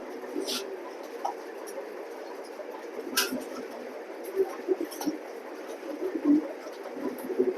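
A male and female pair of racing pigeons coo in soft, repeated low calls, close by, with a few sharper bursts and light handling noise between them.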